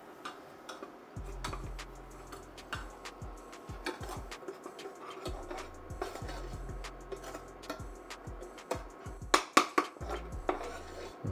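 Butter and flour being stirred in a pan, heard as quiet, irregular scraping and ticking of a utensil against cookware, with a few sharper knocks near the end and no talk.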